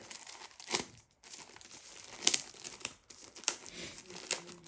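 Plastic wrapping around a Fanttik portable tire inflator crinkles and tears as it is handled and pulled open, quiet close-up rustles in short bursts with a couple of brief pauses.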